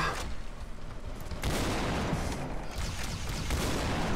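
A sentry gun in Brutal Doom blazing away in rapid bursts of gunfire, with dense, overlapping shots and booms that run continuously at close range throughout.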